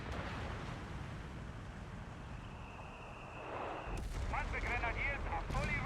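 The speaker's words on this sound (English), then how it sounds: "Has to be a 75mm barrage." Rumbling 75mm artillery barrage in the real-time strategy game Company of Heroes 3: a steady low roar with heavier blasts near the end, under continuous spoken commentary.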